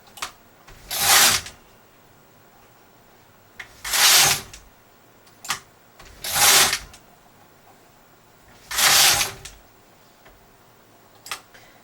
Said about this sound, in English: I'm not pushing my needles far enough. That's why you're hearing that noise.